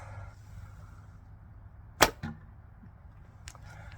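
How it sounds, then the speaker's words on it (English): A bow releases its last arrow with a single sharp twang and thump, a short percussive snap close to the microphone over faint background noise, followed by a small click a moment later. "I do apologize if you hear a twang."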